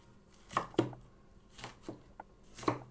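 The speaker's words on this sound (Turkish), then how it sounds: "Bunları da aynı şekilde doğruyorum yine." A knife chops peppers for menemen in a home kitchen, giving five or so crisp, close cuts at an uneven pace with short quiet gaps between them.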